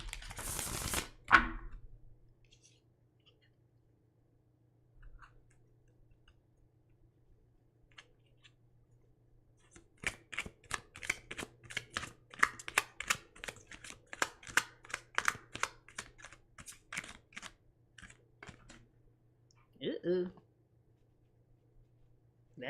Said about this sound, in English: these cards are so slippery. All right, I'm shuffling one more time.